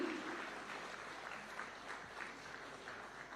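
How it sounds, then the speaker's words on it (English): An audience applauds at a tax authority's taxpayer award ceremony, a soft, distant patter of clapping that holds steady throughout without any talk. "A round of applause kindly."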